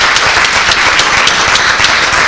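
Audience applause following a dance group's performance at a 2019 State of the Village event, a dense, loud, continuous clapping from a crowd, heard alone.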